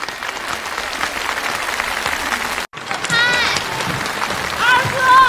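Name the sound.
audience applause welcoming performers on stage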